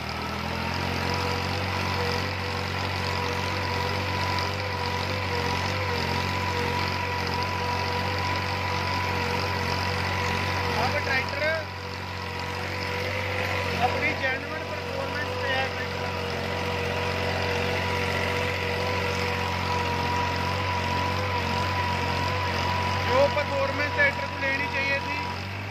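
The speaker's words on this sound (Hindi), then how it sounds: "अब ट्रैक्टर कुल 50 से 100 चक्कर के RPM ड्रॉपेज दे रहा है, वो भी फुल हैवी लोड पे" A New Holland 4x4 tractor engine runs steadily under full heavy load, a constant low drone throughout, with someone talking over it at times.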